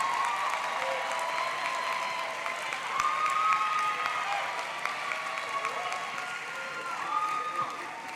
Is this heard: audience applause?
yes